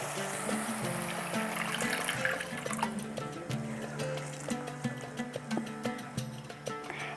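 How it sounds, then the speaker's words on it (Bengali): A cup of water poured into simmering curry gravy in a pan, a continuous close splashing trickle with bubbling and sizzling underneath, steady throughout with no talking. "আমি এখানে দিয়ে দেব গ্রেভির জন্য 1 কাপ জল"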